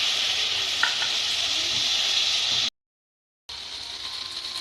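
Tomatoes frying in a pan for ridge gourd chutney, a loud continuous sizzle with occasional scraping from stirring, briefly cut to silence before the sizzling resumes.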